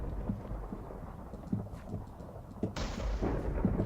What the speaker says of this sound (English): The dark kunzite sword strikes lightning.